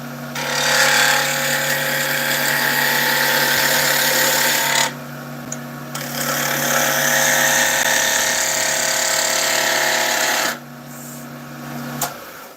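A skew chisel shaves wood spinning on a lathe, giving a steady loud hissing cut over the motor's constant hum, broken by two short pauses where the tool lifts away, with no voice.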